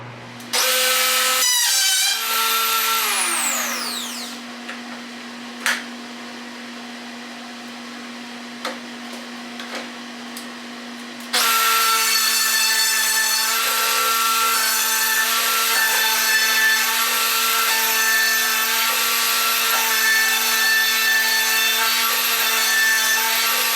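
Router boring bench dog holes in a wooden workbench: a loud, close motor whine spins up and cuts, dips into a quieter stretch with a few knocks, then surges back into a sustained, steady high-pitched cutting drone.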